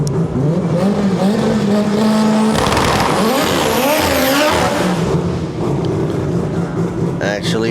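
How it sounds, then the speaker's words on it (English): A race car doing a burnout at the staging area of a Thai drag racing event, loud continuous engine roar and screeching tire spin rising in pitch midway, with commentary talking over it throughout. "Actually burning tires though."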